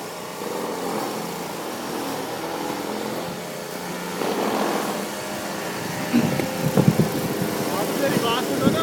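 A car's engine revs while the vehicle is stuck in snow during a blizzard, a droning motor rising in bursts under people talking nearby.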